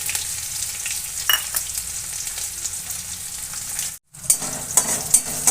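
Crushed garlic goes into hot oil with mustard seeds, cumin and onion, sizzling in a steady bright hiss close up, broken by a brief silence before crackling and popping resume.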